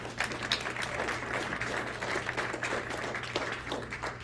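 Applause at a school board meeting for an undefeated girls basketball team: a moderate, even round of clapping from the audience, heard a little distant and lasting about four seconds.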